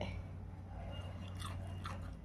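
A boy bites into crispy punugulu, idli-batter fritters, producing a few faint, close crunches over a low background hum.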